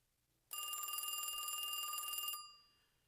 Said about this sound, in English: Max exits to answer the phone.